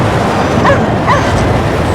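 Dogs in the video game Cryostasis give two short, sharp barks or yips about half a second apart, loud and close over a dull low ambient drone.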